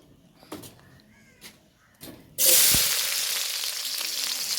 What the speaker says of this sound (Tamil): மெதுவாக போடுங்க, வெங்காயத்தை போடுங்க ஃபஸ்ட்டு